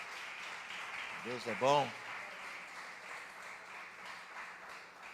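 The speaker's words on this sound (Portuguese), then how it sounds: "Uma salva de palmas para todas as mães" A church congregation applauds for all mothers, a soft, steady patter of clapping heard at a distance, with a voice speaking briefly over it.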